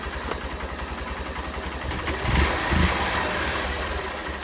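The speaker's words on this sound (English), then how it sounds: "I'm just going to give it a rev." Honda CBF 125 motorcycle engine running close by, with a steady idle that rises into a short rev and then settles back, heard alone without talk.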